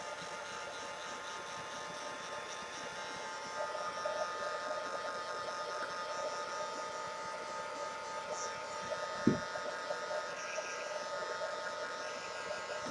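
Dryer blowing on wet gesso over a plastic metallic flower, a steady close whirring hum and buzz held throughout with slight shifts in pitch and one brief knock partway.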